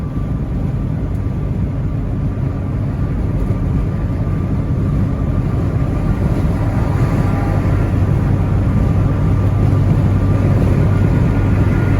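A truck hauling hay cruises along an interstate, giving a loud, constant rumbling road and engine drone with wind noise, unbroken throughout and without talk.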